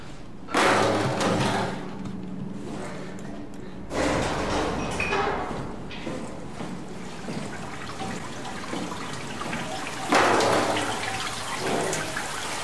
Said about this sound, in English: Water leak.